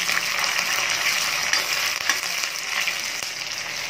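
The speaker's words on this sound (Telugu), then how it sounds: "బాగా దోరగా ఫ్రై చేసుకోవాలి।" Goat head pieces sizzle and fry steadily in a pan for a spicy goat head curry, a dense, even crackle with a few faint clinks, and no one talks.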